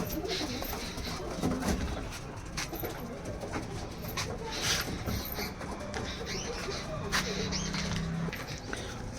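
Mirawale and teddy pigeons, Punjabi Malwai birds, give low, soft coos mixed with rustling and shuffling nearby, with someone talking over them throughout.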